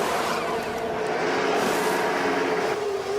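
Formula 1 race cars in F1 Manager 22 roaring along the main straight, a steady loud engine drone with a rising and falling whine as the pack passes close by.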